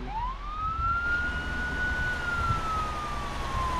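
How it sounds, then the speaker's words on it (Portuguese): A police car siren in the video game Arma 3 sounds one long, loud wail that sweeps up, holds steady and slowly falls, over a low engine rumble. "Parei, vou ligar a sirene."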